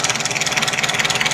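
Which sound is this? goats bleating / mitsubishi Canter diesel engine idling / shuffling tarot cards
mitsubishi Canter diesel engine idling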